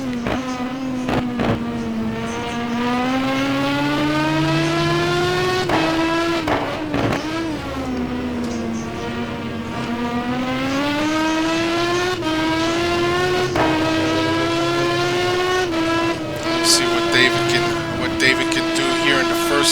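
Race car engine held at a steady high pitch on a hot lap around Jerez in a GT1 racing video game, with gear changes and small rises and dips in revs throughout, under faint background sound.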